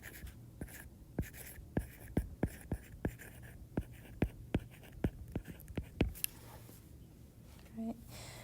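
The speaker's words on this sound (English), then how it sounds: "All right, so I'll make that note" Pen or pencil writing a note by hand on paper, a steady run of sharp, close scratching strokes in an irregular rhythm, with quiet background hum and no talking.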